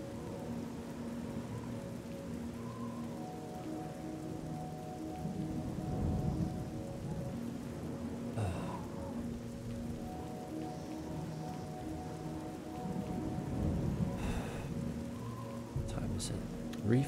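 Steady rain pours during a storm in the game Oblivion, with low rumbles of thunder rolling in twice and a sharper crack near the end, heard under faint background music.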